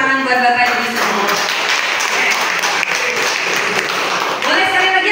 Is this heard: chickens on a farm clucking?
no